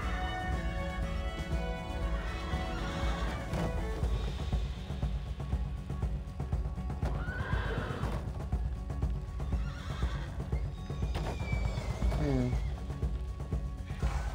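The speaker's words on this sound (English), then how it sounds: "We need to get the horses free," Horses neigh and whinny in the video game Unravel Two during a forest-fire rescue, with hoof clip-clops mixed into a dense, continuous game soundtrack and effects.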